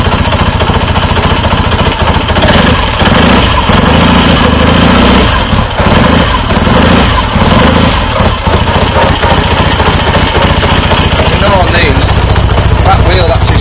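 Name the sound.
BSA A10 Super Rocket 1961 motorcycle engine running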